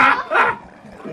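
Dogs bark in the Roblox game Doge Head Escape: two loud, close, yappy barks in quick succession.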